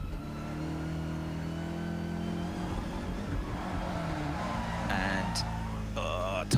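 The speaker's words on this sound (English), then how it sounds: "And tyres squealing" DTM race car at Zolder spinning through a corner, its engine revving and droning steadily before a high, sharp tyre squeal bursts out near the end as the car loses grip, loud and close.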